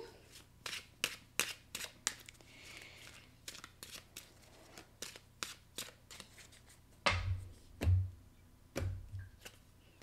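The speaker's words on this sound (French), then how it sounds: "Je sors la carte pour vous." Cards from an oracle deck are handled and drawn, making a run of crisp, quick flicks and taps close to the mic. A few heavier soft thumps come near the end, with no talking.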